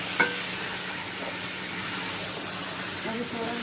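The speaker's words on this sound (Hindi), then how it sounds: "और इस प्याज में इसको मैं फ्राई करूँगी" Chicken frying in onions in a pan, a steady hissing sizzle held at an even level, with one sharp clink near the start and faint stirring, close by with no talking.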